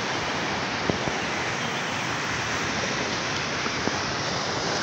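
Surf at Pantai Alam Indah, a beach on the northern Java coast, rolls as a dense, continuous broadband wash, steady and moderately loud, with a couple of faint ticks and no voices.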